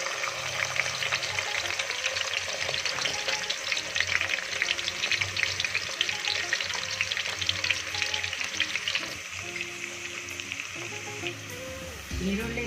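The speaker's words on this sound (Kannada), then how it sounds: "ಈರುಳ್ಳಿ ಜಾಸ್ತಿ ಫ್ರೈ ಆಗಬೇಡ, ಸ್ವಲ್ಪ ಫ್ರೈ ಆದರೆ ಸಾಕು." Onions fry in hot oil in a pan for sweet corn pulao, giving a close, continuous crackling sizzle with occasional stirring scrapes and a clunk near the end, without voices.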